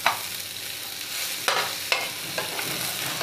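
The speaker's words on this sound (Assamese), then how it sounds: "ভাজি ল'ম ৰংচোৱা হোৱালৈকে" Labeo bata fish frying plain in a pan without salt or turmeric, with a steady close sizzle and a few sharp clatters from stirring or turning.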